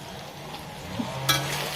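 Turmeric, chilli powder and cumin powder fry and sizzle softly in a pan with ginger and garlic, and a brief stir and scrape comes near the end. The sound is short and close, with no voices.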